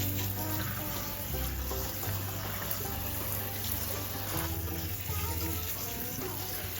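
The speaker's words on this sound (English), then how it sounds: "I'm gonna get this filled up with water and get this going" Tap water runs steadily into a canning pot for strawberry jam, a continuous faint gushing and splashing with a low hum beneath, no voices.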